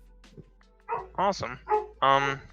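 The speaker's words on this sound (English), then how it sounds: "Sorry about my dog. She's going crazy right now." A female dog barking and yipping excitedly in a few short, sharp bursts in a quiet room, with a brief spoken word mixed in.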